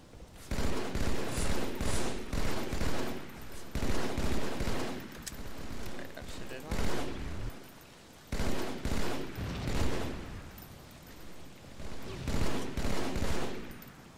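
Rapid gunfire from a character's carbine-style weapon in a video game, repeated fast bursts of shots in a regular rhythm with brief pauses between volleys, loud and close.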